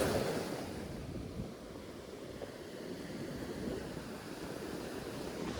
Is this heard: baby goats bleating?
no